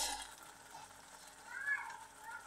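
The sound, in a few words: stirring and sautéing Bual fish curry in a pan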